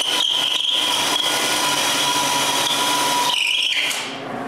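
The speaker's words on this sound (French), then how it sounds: "je perce les trous pour pouvoir visser le dessus sur la base" Power drill boring holes through a wooden workbench top before it is screwed to its base, a steady high whine held for several seconds, then a brief pitch shift and spin-down near the end.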